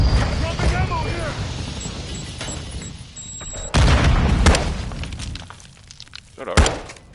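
A Semtex grenade explodes in Modern Warfare 2 with a loud, sharp boom partway through, among other gunfire and battle noise, while players talk over the action.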